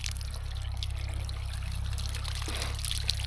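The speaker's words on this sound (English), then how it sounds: "We just put a little bit of hot water on there," Hot water trickles and pours onto a stiff rod bushing on a tractor, a soft continuous dribbling over a steady low mechanical hum, with a faint click near the end.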